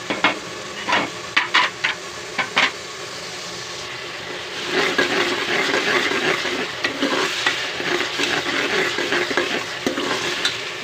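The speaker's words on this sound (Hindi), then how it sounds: "ये मसाले खड़े मसाले सारे डाल रही हूँ, अच्छे से भूनूंगी इनकी" Whole spices sizzle and crackle in a hot pan as they are roasted and stirred, starting with a few sharp scraping clatters and then settling into a dense, close frying hiss with no talk.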